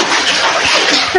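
Loud, close rush of rainwater pouring and splashing into a house during heavy rain, a continuous hissing stream with slight sloshing.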